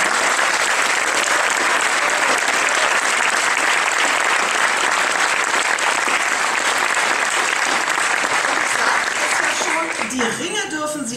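Loud, sustained applause from a science slam audience in a cultural venue, cheering the jury members, a dense wash of clapping that starts to thin out near the end as a voice comes in.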